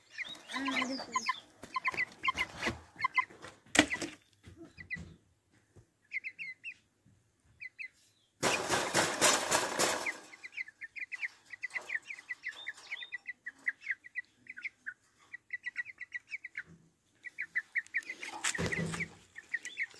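Chicks kept in a cage, clucking and peeping in rapid, high chirping runs across a long stretch, close by, with people talking at moments and some handling noises.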